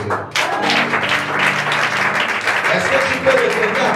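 A church congregation at a prophetic worship service applauds and cheers in praise, a dense, steady roar of clapping and voices filling the room throughout.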